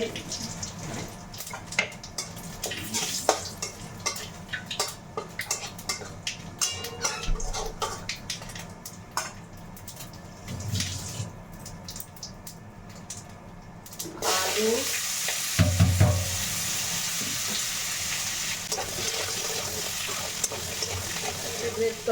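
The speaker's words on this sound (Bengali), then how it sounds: "দুটো শুকনো লঙ্কা ফোড়ন দিচ্ছি একটা তেজপাতা গোটা জিরে" Dry red chillies, a bay leaf and whole cumin seeds tempering in hot oil in a home kitchen pan, a steady frying sizzle that grows louder and denser in the second half, with light stirring.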